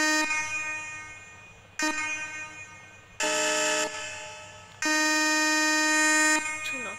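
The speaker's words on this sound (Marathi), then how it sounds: "तो चलो हॉर्न मारते हैं" A synthetic vehicle horn honks in several sustained blasts separated by short gaps, loud and close, with a low engine hum underneath.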